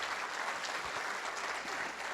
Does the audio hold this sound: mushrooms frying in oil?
no